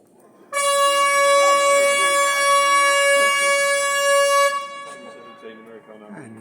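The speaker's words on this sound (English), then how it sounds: "a siren, a horn, from what we can see in front of us, the yacht club" A long, loud, steady horn blast from a yacht club by the water at Burnham on Crouch, holding for about four seconds before cutting off, followed by quieter background sounds.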